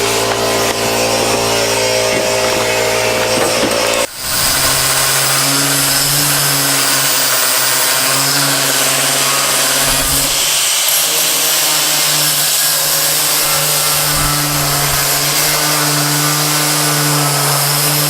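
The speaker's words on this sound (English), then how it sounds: "we're going to cut the bolt off. See how well that works." A power tool with a diamond blade or flap wheel cuts off a bolt on the bed of a 1970 Chevrolet C10 pickup, a loud continuous high-pitched grinding whine that shifts in tone briefly and then runs steadily close by.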